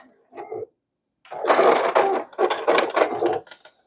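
An embroidery sewing machine finishes a quilt block with a stay stitch: a brief whir, a pause, then a longer run of rapid stitching that breaks into a few short bursts.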